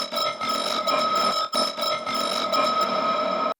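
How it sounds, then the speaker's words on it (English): A synthesized dubstep scanner effect, with variations, produces a steady buzzing tonal texture that runs continuously with small rhythmic pulses and one brief dip midway. It sounds loud and up front, with no talking. "and the scanner effect but with variations."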